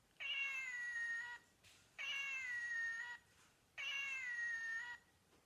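Three drawn-out squeaky meows from a squeezed grey toy cat, evenly spaced with short pauses between, clear and close.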